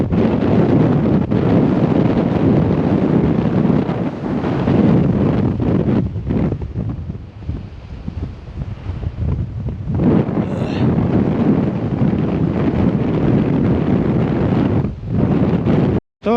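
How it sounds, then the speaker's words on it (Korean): Strong sea wind while fishing for black sea bream off Yokji Island buffets the microphone in a loud, continuous roar that rises and dips, with faint water sounds beneath. "이제 바람이 조금 자네요"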